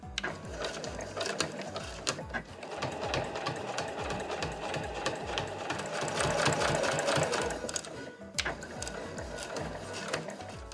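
A home sewing machine runs steadily, stitching the inner lining of a quilted nubi tote bag with a continuous close mechanical whir that briefly pauses near the eighth second before resuming.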